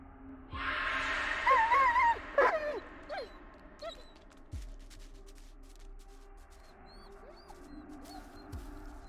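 A dog in the horror game Blair Witch whimpers and whines in a few high, wavering cries early on, followed by quieter game ambience with faint scattered sounds.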